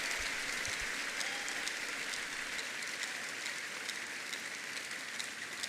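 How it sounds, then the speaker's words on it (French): A church congregation claps in praise, a dense and steady wash of applause that stays loud throughout the clip with no pauses. "Give this great God a big hand of praise."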